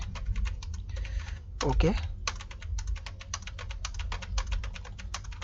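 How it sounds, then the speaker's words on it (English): Rapid, steady key presses on a computer keyboard, close and clear, with a brief pause in the middle while a person speaks a word. "I'll just type jargons for you to be sure of what I'm saying."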